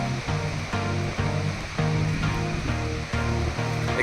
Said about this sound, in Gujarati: ખળખળ નદી વહે છે.